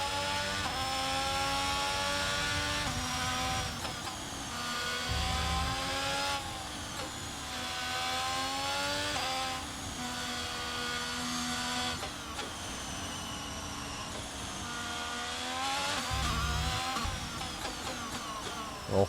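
Formula 1 car engine in the racing game F1 22, a high-pitched screaming whine that rises and falls through repeated gear changes and brief lifts off the throttle, loud and continuous throughout.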